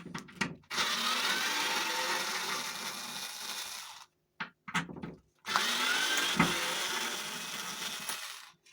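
A power screwdriver whirs in two long bursts as it backs screws out of door hinges, with short clicks and a pause between the runs, close and fairly loud.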